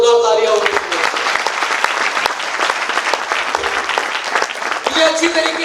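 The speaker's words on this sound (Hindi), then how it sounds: "एक बार जोरदार तालियां होनी चाहिए।" An audience at a business gathering in Mumbai breaks into loud, dense applause that carries on throughout, with a voice speaking over it at the start and again at the end.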